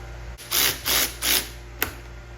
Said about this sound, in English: I'm gonna tighten these 14 millimeter bolts on the bottom.